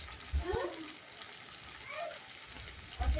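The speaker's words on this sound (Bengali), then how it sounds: "এইভাবে নাড়াচাড়া করে এর মধ্যে ভেজে রাখা পটল ভালো করে কষিয়ে নিচ্ছি" Pointed gourd pieces sauté in a pan with ginger and asafoetida for doi potol, giving a soft sizzle broken by a few short scrapes of stirring.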